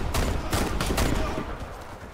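Gunfire in the online shooter CrossFire, several sharp rapid shots in a quick burst near the start, then fading into background game noise.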